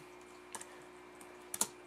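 Computer keyboard typing, a few faint isolated key clicks spaced apart against a quiet room hum, close and soft with no talk.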